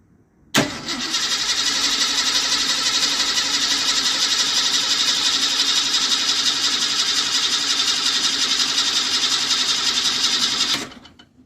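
A car engine cranks over continuously for about ten seconds on its starter while a newly installed fuel pump is tested, a loud, steady, close whirring drone that begins and stops abruptly.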